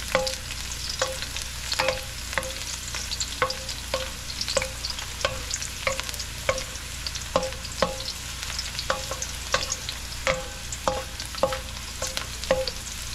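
Sarsiado sizzles steadily in a pan while a utensil scrapes through it in a regular rhythm, roughly one stroke per second, with no voices.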